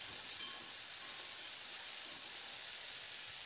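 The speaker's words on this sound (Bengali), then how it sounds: "তো মিনিট 2-3 মতো আমি ঝিঙে আলুটাকে লবণ হলুদ দিয়ে একটু নাড়াচাড়া করে নিলাম।" Ridge gourd and potato with salt and turmeric stirred in a pan, a soft continuous hiss with a few faint spoon taps, quiet and close, with no talking.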